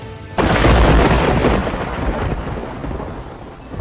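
A lightning strike cracks suddenly into a heavy, loud thunder rumble that rolls on and slowly fades, with no voices over it.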